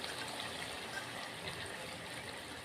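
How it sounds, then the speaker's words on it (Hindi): Hot water, one bowlful, being poured into a chicken chatpata gravy: a steady, moderately loud trickling and splashing of liquid that continues unbroken with no talk over it. "इसमें हम पानी ऐड कर रहे हैं।"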